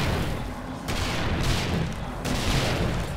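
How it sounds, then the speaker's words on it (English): Automatic turret gunfire in 7 Days to Die during a horde night, dense bursts of booming shots in continuous overlapping volleys, loud and close. "I need the turret to keep shooting."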